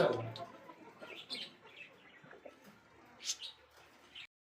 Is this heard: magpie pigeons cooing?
yes